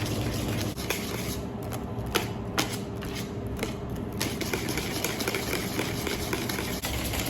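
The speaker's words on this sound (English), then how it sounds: "you can always blitz it with a hand blitzer just to get rid of all the butter" A hand blender whirs steadily through a lemon curd mixture, smoothing out lumps of butter, with a continuous close motor drone and a few sharp clicks and knocks from the blade against the bowl.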